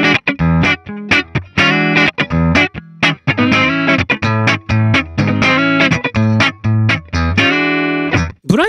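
Electric guitar runs through a HOTONE Ampero One amp model with the bright switch on, giving loud, slightly distorted chords and riffs in short choppy bursts with brief gaps and a final quick strum.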